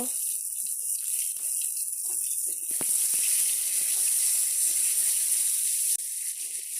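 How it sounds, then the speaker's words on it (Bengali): Pre-boiled duck eggs fry in hot oil in a wok with a little salt and turmeric, giving a steady bright sizzle with a few brief scrapes and clicks partway through. "হাঁসের ডিম তেলে ভেজে নিব।"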